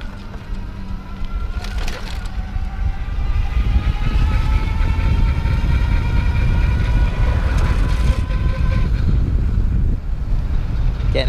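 A Sun Seeker Eco Tad electric trike accelerates on its trigger throttle at full power, a thin motor whine rising in pitch over heavy, steady wind rumble while riding on a street.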